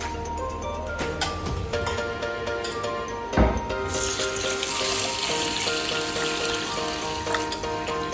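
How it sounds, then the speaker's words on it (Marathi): Rice with urad, toor and moong dal and poha being washed in water in a kitchen vessel, a steady close splashing and sloshing that swells and continues without pause, no voices. "तर आता आपण हे पाण्याने स्वच्छ दोन तीन वेळा धुवून घेऊयात"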